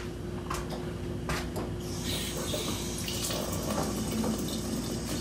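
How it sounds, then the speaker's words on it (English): Tap water runs steadily into a kitchen sink as hands are washed under it. The water gives a constant close splashing, with brief irregular splatters as the hands move through the stream. "So I'm going to wash my hands and"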